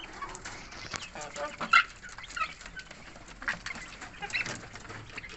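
Several young mixed-breed village and Siamese chickens cluck and chatter close by, with scattered sharper calls over a low background.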